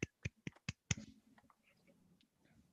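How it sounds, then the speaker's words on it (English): Five soft, sharp claps in quick succession, then faint room murmur; quiet and close. "Soft clap."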